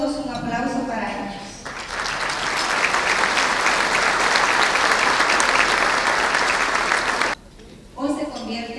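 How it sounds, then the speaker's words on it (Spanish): Audience applause for guests at a business gathering of migrant entrepreneurs, a sustained, even burst of crowd clapping lasting several seconds, with a voice just before it and again just after. "por lo que les pido a todos un aplauso para ellos."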